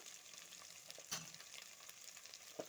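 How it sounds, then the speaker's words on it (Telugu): Steady sizzle of a spice mixture frying in hot oil in a pan for Telugu-style capsicum curry, with a couple of brief stirring scrapes, fairly quiet and close, no talking. "ఇది కూడా చక్కగా కలిపేసుకొని పచ్చివాసన పోయేంత వరకు మనం ఆయిల్లో ఫ్రై చేసుకున్నాము"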